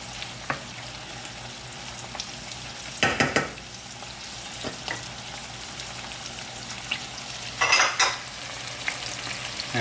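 Garlic fries in a pan with green olives with pimento, artichoke and sun-dried tomatoes, a steady soft sizzle broken by two louder bursts of crackling as the mixture is stirred.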